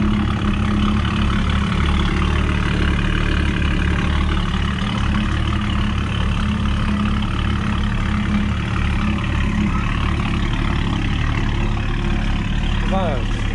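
A Volvo S60 T6 engine idles steadily on its first cold start after a new downpipe was fitted, a loud continuous low rumble throughout with people talking nearby.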